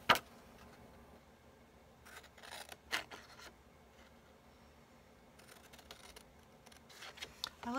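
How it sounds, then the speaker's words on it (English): Scissors cutting paper for a small 3x3 card gift box, heard as a series of quiet, crisp snips and slides scattered through a calm room, some smooth and drawn out, others short and separate. "I love the sound of paper being cut with scissors."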